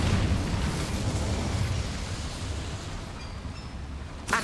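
The Incendio fire spell in Hogwarts Legacy, cast as a loud, sustained whooshing roar of flame that slowly fades, ending in a short sharp burst, with no talking.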